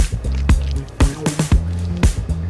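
Starch being mixed into water in a giant pool gives wet, squishy splashes and drips in a loose rhythm, with thick sloshing between the louder slaps, close and clear with no talk.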